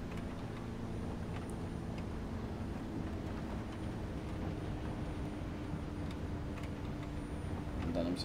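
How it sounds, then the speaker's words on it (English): A twin-engine propeller plane with counter-rotating propellers runs at full throttle in War Thunder, a steady droning engine roar under a dense, even hum with someone talking over it. "So I can just press full throttle without tumbling over."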